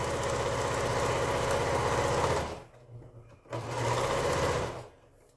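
A sewing machine stitches quilt block pieces in steady, close-up runs, whirring loudly for a couple of seconds, pausing briefly, then running again before stopping.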